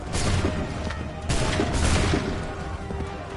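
Soldiers fire a ragged musket volley in Assassin's Creed 3, with two loud, crackling bursts of overlapping shots about a second apart that decay into a rumbling tail.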